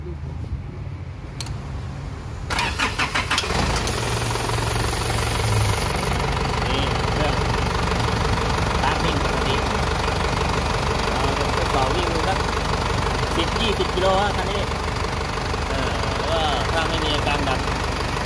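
An Isuzu 4JH1 diesel engine cranks and catches after a few seconds, then settles into a steady, rough, close-up idle with a knocking rhythm, and a voice is heard briefly at the start.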